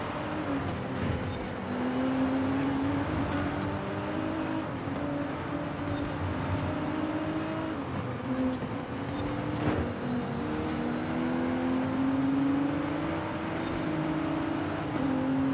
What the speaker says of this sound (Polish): to przyspieszenie to BMW z formuły drift